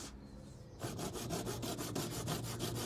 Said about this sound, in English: We're gonna saw someone in half.